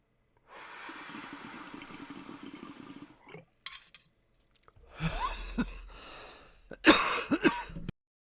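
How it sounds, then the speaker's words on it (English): A person nearby has a coughing fit: heavy, raspy breathing first, then a cluster of harsh, throaty coughs and sputters that grow louder toward the end. "Huge coughing fit."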